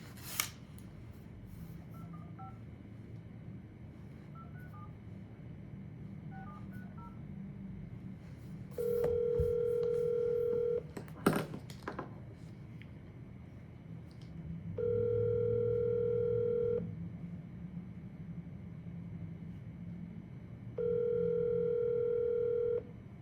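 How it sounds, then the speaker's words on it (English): An outgoing telephone call: a few faint keypad tones early on, then a ringback tone that sounds in steady two-second bursts separated by longer quiet gaps, heard over a low room hum. "we're gonna call Rahiv."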